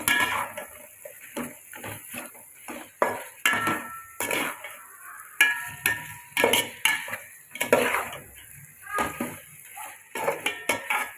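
Chicken coated in masala fries in a pan while a spoon knocks and scrapes against the metal in a busy, irregular rhythm, loud and close, with a light sizzle underneath.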